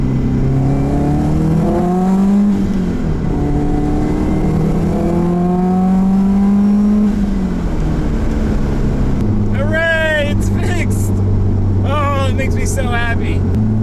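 A 90's car engine revs and accelerates hard, its rising then falling drone climbing through the gears with a strong, close roar. Voices talk briefly over the engine near the end.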